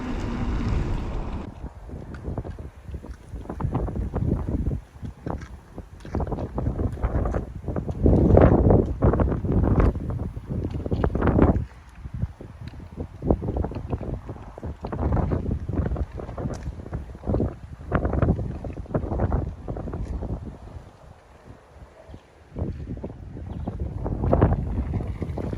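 Strong gusting wind buffets the microphone throughout a mountain bike ride on a beginner hardtail, roaring in loud irregular surges with brief lulls, no voices present.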